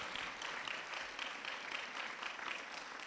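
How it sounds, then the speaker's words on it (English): An audience applauds at a school district principal and assistant principal of the year event, dense steady clapping from many hands throughout with no voices. "Let's give Dr. Patterson and her team a great big round of applause."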